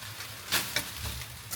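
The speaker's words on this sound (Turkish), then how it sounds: "Şimdi ben bunu 1-2 dakika kavurayım." Onions and peppers sizzle softly in a frying pan, with faint scraping stirs breaking through the low, steady frying noise.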